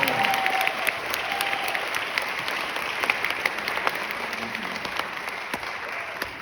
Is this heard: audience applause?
yes